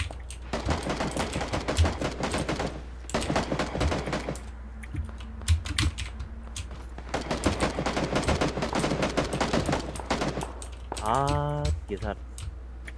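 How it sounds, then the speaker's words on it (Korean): Bursts of rapid gunfire in the video game Battlegrounds crackle in repeated volleys, with pauses between them and a short tonal sound near the end. "총소리"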